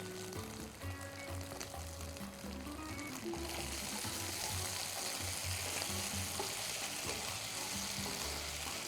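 Green chillies frying in ginger garlic paste for stir-fried basil chicken, a steady dense sizzle running continuously throughout, growing brighter partway through, with faint musical tones underneath and no talk.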